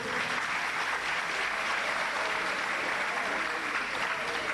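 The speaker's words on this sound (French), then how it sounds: "Vous applaudissez pour elle, s'il vous plaît." An audience at a school quiz final applauds the hostess with a continuous, even wash of clapping that holds steady throughout at moderate loudness.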